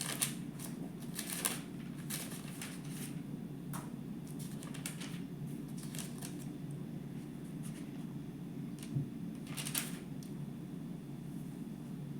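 Thin Bible pages being leafed through in a series of quick, crisp paper rustles and flicks, moderately close, over a steady low background hum.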